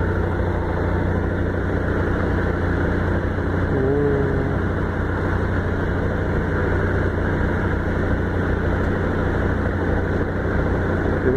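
A Yamaha Factor motorcycle engine droning steadily and loud throughout a ride, with constant low rumble and wind noise and no talking.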